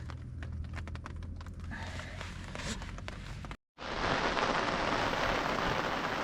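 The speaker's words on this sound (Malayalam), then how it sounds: "അപ്പൊ നല്ല മഴയാണ്" Heavy rain pours steadily on a night forest campsite with a tent, a dense hissing roar that briefly cuts out and returns louder and fuller, with no talking.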